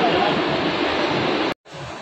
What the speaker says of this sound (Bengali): এই হচ্ছে বর্ধমান স্টেশন